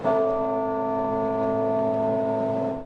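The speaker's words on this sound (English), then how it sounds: "Bells tolled 96 times for each year of the Queen's life as the city's life paused." A single deep church bell strike tolls from Sydney Town Hall and the Martin Place GPO, loud and sustained with a long ringing hum that fades at the end.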